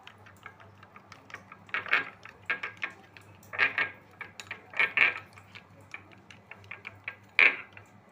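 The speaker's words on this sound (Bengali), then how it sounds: "এই দিয়ে দইটাকে ভালো করে ফেটিয়ে রেখে দেবো।" Curd being whisked with sugar in a bowl, a run of irregular clinking taps and scrapes of the whisk against the bowl, close and fairly quiet, with no talk.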